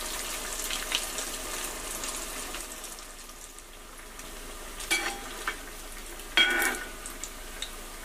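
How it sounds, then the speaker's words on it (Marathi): Bread rolls deep-fry in oil with a steady soft bubbling sizzle up close, broken by a few brief brighter pops and clicks and no voices. "आता असे सगळे रोल तळून घ्यायचे."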